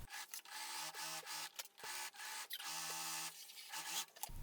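A sewing machine stitches a backpack strap and its lining together at 1 cm seam allowance, running in short bursts of close, rattling whir broken by brief stops, with no talking.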